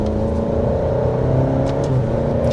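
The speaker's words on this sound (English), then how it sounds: "Yeah, those are very quick and very snappy shifts, almost kind of dual clutch-like in the overall performance." A 2024 Alfa Romeo Stelvio Veloce engine runs loud and close from inside the cabin, a steady droning growl that shifts pitch as the paddle shifters change gears.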